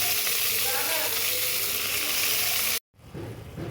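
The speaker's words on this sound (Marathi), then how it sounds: "तर आता कढईमध्ये 2 चमचे तूप घालून त्यात मेथी घालून परतून घेऊ छान।" Fenugreek leaves frying in ghee in a wok give a steady, fairly loud sizzle and hiss that cuts off abruptly near the end, followed by quieter kitchen sounds.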